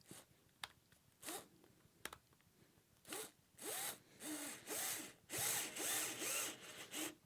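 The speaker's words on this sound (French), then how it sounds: "Je pose la vis et la visseuse dans" A power screwdriver drives a screw into pre-drilled wood: brief motor pulses at first, then a run of longer whirring bursts that rise and fall in pitch, close and fairly quiet.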